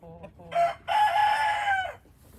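A rooster crows once, close and loud, a short rising call followed by a long drawn-out note, preceded by a few soft clucks.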